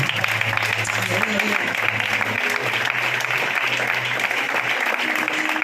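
A crowd at a Valencia Fallas gathering applauds continuously, a dense and steady wash of clapping with voices mixed in and some low tones running underneath.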